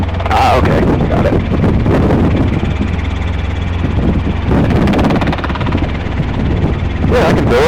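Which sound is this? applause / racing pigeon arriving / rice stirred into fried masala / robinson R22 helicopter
robinson R22 helicopter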